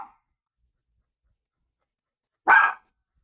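A single sharp bark from a dog indoors, reacting to someone at the front door, rings out loudly and alone after a near-silent stretch, with a faint clipped bark at the very start.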